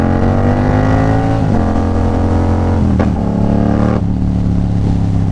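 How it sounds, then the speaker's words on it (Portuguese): A Yamaha MT-07 motorcycle engine runs steadily close by, its low harmonic drone holding firm with slight pitch dips and a couple of brief throttle changes, loud and alone. "Essa motoca, cara, é uma puta de uma moto."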